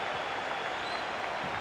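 A large stadium crowd roars and cheers steadily throughout a FIFA 25 friendly football match between Bergamo Calcio and Mainz, a dense, continuous wash of noise with no break.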